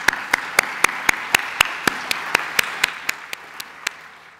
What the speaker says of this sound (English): let's have a round of applause for all the members